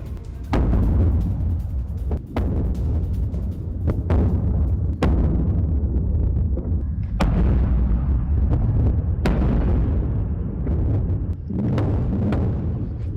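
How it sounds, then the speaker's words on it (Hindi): A Russian warship's Kalibr missile attack produces a series of loud, heavy booms and sharp bursts at irregular intervals over a constant low rumble. No one speaks. "रूसी वॉरशिप ने कैलिबर मिसाइल से किया हमला।"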